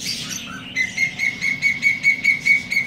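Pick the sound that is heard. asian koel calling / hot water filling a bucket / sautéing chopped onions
asian koel calling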